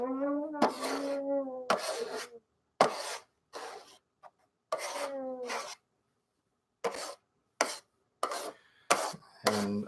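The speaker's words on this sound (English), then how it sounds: "So I'm just grating a piece of chocolate" A piece of chocolate scrapes against a grater in repeated short rasping strokes with brief pauses between them, close and fairly clear.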